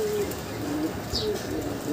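Racing pigeons coo softly in a loft, with low repeated burbling calls close by and a brief higher chirp partway through; no one speaks.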